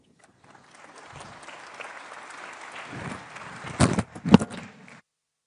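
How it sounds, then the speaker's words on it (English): An audience at a NATO summit panel breaks into applause that builds steadily and swells into a loud, dense burst of clapping near the end before stopping abruptly. "Another round of applause."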